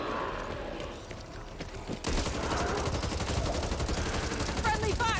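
Gunfire from the co-op shooter Back 4 Blood on the Waterfront level, starting as faint scattered shots and then jumping to a loud, sustained rattle of rapid automatic fire, with a few chirpy game effects near the end.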